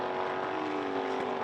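A Formula Holden race car engine, not running cleanly, drones steadily at a distance at a motorsport festival in Adelaide, a sustained buzzing tone without a clear rev change.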